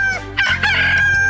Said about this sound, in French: Ah, et sûrement pas un coq.